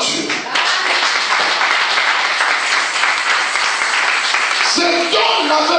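A church congregation at an evangelistic prayer service breaks into loud, sustained applause, a thick wash of clapping with raised voices and cheers mixed in that carries through to the end.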